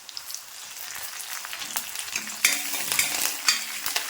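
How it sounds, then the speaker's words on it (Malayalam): Shallots, dried chilli and curry leaves fry in oil for a green gram and drumstick leaf curry, giving a dense, continuous sizzle full of sharp pops and crackles. The fry is close and steady, with no talking. "ചെറിയ ഉള്ളി നന്നായിട്ട് ക്രിസ്പി ആയിട്ട് മൂക്കണം"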